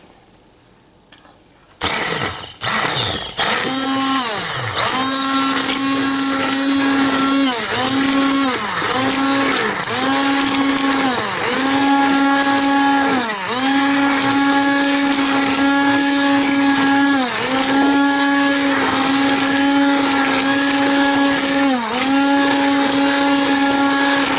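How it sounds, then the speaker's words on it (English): A loud stick blender whirs continuously for over twenty seconds, its motor pitch dipping and recovering repeatedly as it churns through thick simmered dried chiles. "trusty stick blender and blend up this."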